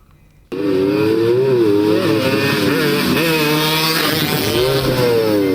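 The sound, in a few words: motorcycles racing at high speed in illegal street race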